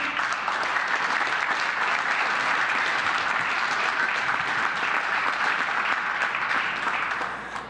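Steady, sustained applause from an indoor audience at a firehouse reopening ceremony welcoming a fire chief, continuous clapping that tapers slightly at the end.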